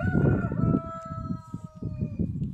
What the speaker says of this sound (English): I got some new laying hens just a couple days ago